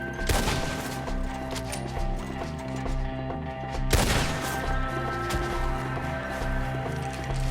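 Gunfire during a woodland shootout in Red Dead Redemption 2, sharp shots and crackling volleys over a busy background of movement and hoofbeat-like clatter, loud and near, with two strong blasts standing out.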